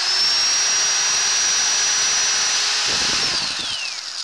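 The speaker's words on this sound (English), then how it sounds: "Nice handy little drill to use if the batteries run down on my cordless." An old Skil 1/4-inch corded electric drill runs steadily with a high whine, close and loud, then winds down as the motor slows near the end.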